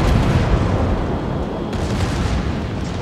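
Warship guns firing in the naval combat game World of Warships, a dense, continuous roar of heavy booms and rumbling blasts, loud and close throughout.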